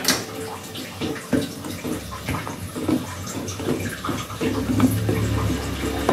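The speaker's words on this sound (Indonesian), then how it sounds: "sekarang kita siram ke dalam tepung beras yang tadi kita siapkan ya" Hot palm sugar water is poured into a bowl of rice flour while making nagasari cake. The pour is a steady, close splashing stream with a few clinks and knocks, and no talk.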